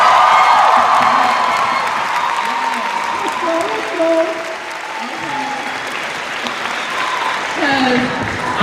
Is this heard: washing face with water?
no